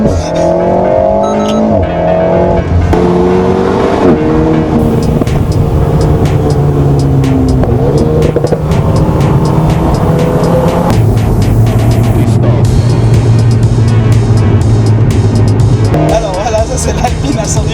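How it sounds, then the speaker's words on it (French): An Alpine A110S sports car drives with a loud, steady engine note that rises and shifts through revs, close and continuous, with people talking over it. "C'est l'Alpine à 110 en action."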